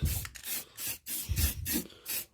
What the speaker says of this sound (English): I just give it a small spray just to cover it a bit.